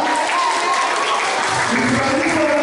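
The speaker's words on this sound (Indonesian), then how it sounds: "Semua boleh tepuk tangan untuk sekolah minggu Pak." A church Sunday school group receives applause, with steady clapping filling the room throughout and voices mixed in underneath.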